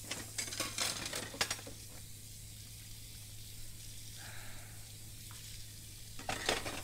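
Dishes are washed in a horror video game, with a steady wash of running water and soft clinks of crockery throughout, fairly quiet and unbroken.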